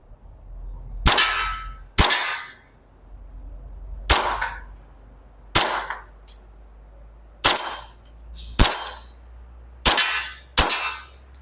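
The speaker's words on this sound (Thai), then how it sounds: "โอเคยิงได้ปกติครับลูกหมดสไลด์ค้างตัวปืนไม่มีปัญหานะครับ" A WE Hi-Capa 5.1 airsoft BB pistol fires eight sharp, loud, close shots at a target about 10 metres away, coming in uneven pairs and singles with short gaps between them.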